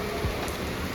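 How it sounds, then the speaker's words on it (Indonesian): Heavy rain falls on arrival in Magetan, making a dense, loud, continuous hiss of pouring water with no breaks. "Sampai di Magetan disambut dengan hujan deras begini."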